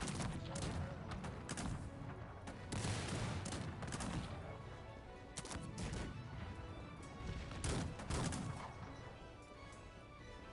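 Repeated volleys of dragoon musket fire crack out in bursts amid battle noise in Cossacks 3, with sharp shots and clattering impacts throughout.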